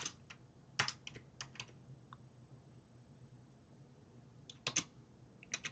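HTML code is typed on a computer keyboard in short, scattered bursts of close key clicks separated by quiet pauses.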